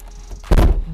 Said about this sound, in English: Listen to the way this door sounds when you close it.